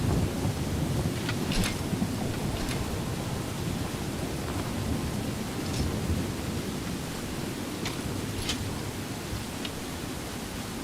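Steady, dense rainfall fills a stormy scene in the video game Skyrim, with a low rolling rumble of thunder underneath and a few sharp crackles, continuous and fairly loud with no talk.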